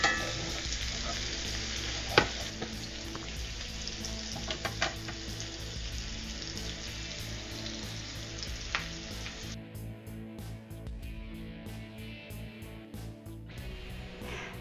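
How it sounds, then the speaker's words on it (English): A chile lime butter sauce with serrano pepper and shallot sizzles steadily as it reduces in a pan, a close, even frying hiss that thins out near the end, with occasional utensil scrapes and no talk. "then we'll let the sauce reduce on its own just a little bit."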